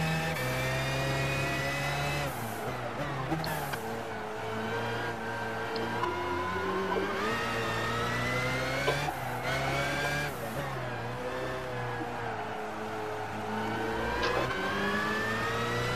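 A 1999 BMW V12 LMR race car's V12 engine in Gran Turismo 5 revs hard and loud through gear changes, with rising and falling pitch, repeated lifts off the throttle and a tyre squeal near the end.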